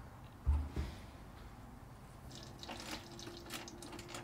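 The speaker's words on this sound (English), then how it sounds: "You'll want a pan or a bucket to catch the water that drains out." Water splashes and trickles steadily into a container as it drains from an EcoSmart ECO 27 electric tankless water heater, with a couple of soft knocks near the start and a faint continuous running sound throughout.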